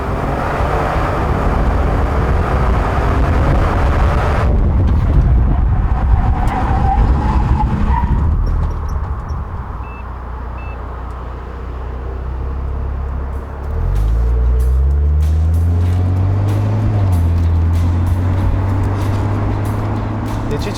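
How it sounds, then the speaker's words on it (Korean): A Genesis G70 Sport AWD with four-piston front and two-piston rear calipers on 19-inch tires brakes hard from 100 km/h, loud road and tire roar fading as the car slows to a stop, with engine hum afterward. "자, 그럼 G70 스포츠의 제동 성능 확인해 보겠습니다."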